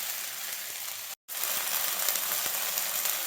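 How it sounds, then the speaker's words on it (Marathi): Onion and coriander paste frying in oil, a steady close sizzle with faint stirring clicks, broken by one brief silent gap before the hiss resumes. "भाजून घ्यायचं चांगला कांदा तेल सुटेपर्यंत"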